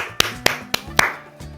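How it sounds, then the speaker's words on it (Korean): Children clap in a church preschool class, a handful of sharp, separate claps spaced about a quarter second apart, close and clear, fading out after five beats. "박수."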